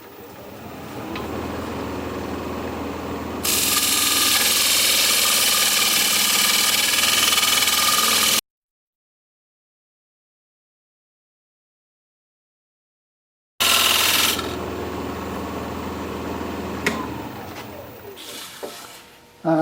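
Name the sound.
wood lathe turning a birch end grain bowl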